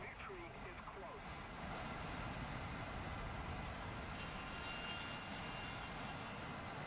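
Aircraft engine drone in a combat flight video game featuring the A-10, a steady low rumbling roar that thickens slightly after the first two seconds, with a few faint game tones early on.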